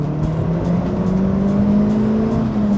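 A 1990s Japanese turbocharged car accelerates hard, its engine note climbing steadily and loud up close with no talk over it.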